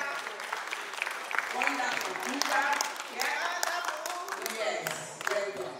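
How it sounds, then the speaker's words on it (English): Audience clapping for contestant number four at an Igbo Day 2024 gathering in the Midlands, a moderate burst of clapping mixed with chatter and a voice speaking over it. "we clap for her"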